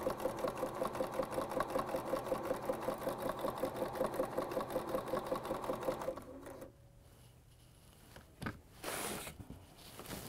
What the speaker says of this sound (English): diagonal your fabric and sew it off the edge